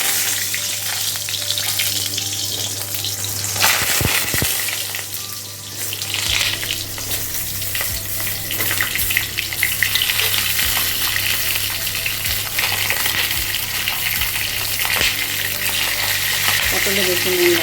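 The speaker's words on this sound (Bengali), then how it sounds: "পটলটা সামান্য নুন দিয়ে ভেজে নেব।" Pointed gourd with a little salt fries in mustard oil in a hot wok, giving a dense, steady sizzle up close, with a few utensil knocks and stirring sounds over it.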